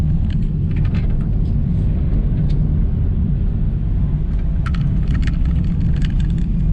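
A car drives toward the beach on a windy, rainy day, heard from inside as a steady, close, loud road-and-engine rumble with faint high ticking. No one speaks.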